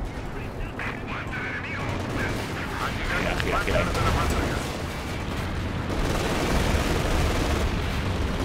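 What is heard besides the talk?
tank gunfire in a video game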